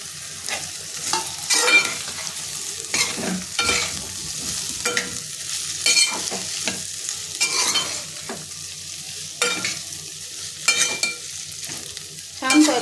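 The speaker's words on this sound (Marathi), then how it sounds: "आता आपण बटाटे जी बारीक चिरून घेतलेली आहे ती टाकून घेऊन फ्राय करूयात" Finely chopped potatoes frying with turmeric and coriander powder, a close continuous sizzle broken by frequent scraping stirs of a spatula against the pan, no voices.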